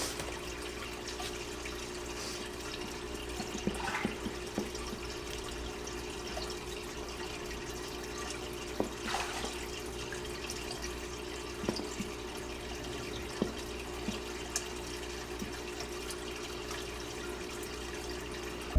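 An aquarium water change is under way in a DIY breeder box, with fish splashing. A faint, steady watery trickle runs throughout, with sporadic small splashes and drips scattered across nearly twenty seconds.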